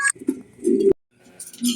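Pigeons on a pigeon farm give soft, throaty cooing in a few close, repeated bursts, with a brief quiet gap partway through.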